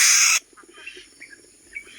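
A bird caught by its wing gives a loud, harsh screeching call that cuts off abruptly, followed by faint scattered chirps and soft rustling close by.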